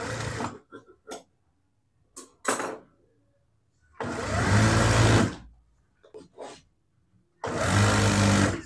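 Sewing machine running a straight outer seam on a large-size trouser, two sustained bursts of steady motor whir, close and fairly loud, with short taps and pauses between runs.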